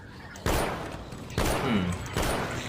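Three loud gunshots spaced about a second apart in The Walking Dead Survival Instinct, each a sharp blast with a decaying rumble, close and prominent.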